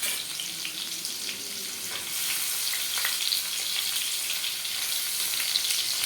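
Garlic frying in oil crackles and sizzles steadily up close, a dense fizzing texture that grows slightly louder midway, with no talking.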